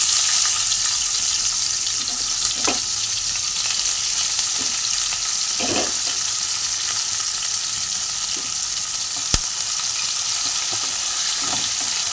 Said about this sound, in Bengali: কড়াইতে সামান্য পরিমাণ তেল দিয়েছি। এবার ওর মধ্যে আমি পেঁয়াজগুলোকে দিয়ে দিলাম।